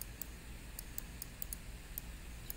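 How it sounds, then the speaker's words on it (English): Faint, sharp mouse clicks repeat at an irregular, quick pace, roughly eight in a couple of seconds, over a low steady hum of a quiet room. "Keep clicking, keep sampling here."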